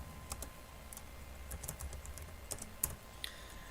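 Computer keyboard keys clack in an uneven run of light taps as a class title is typed in, close and fairly quiet with no talking.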